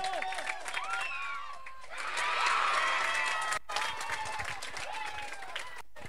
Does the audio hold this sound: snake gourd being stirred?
no